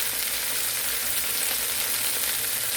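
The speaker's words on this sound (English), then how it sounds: "Let them fry and pop up for me" Shrimp frying in a hot pan give off a steady bright sizzle with fine crackling pops throughout, close and continuous, with no voices.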